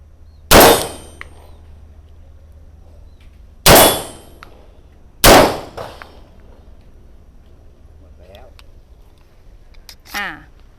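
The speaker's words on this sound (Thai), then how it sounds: "ยิงขนาด 9 มม เทียบรีคอยกระสุนให้ดูนะคะ" Three loud, sharp 9 mm pistol gunshots ring out at a shooting range, spaced a second or two apart, each with a short metallic ring, followed by faint handling clatter and brief talk.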